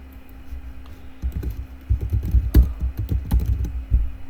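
Typing on a computer keyboard, close and fairly loud, with irregular bursts of key clicks starting after about a second and continuing steadily with a few heavier keystrokes, no talk.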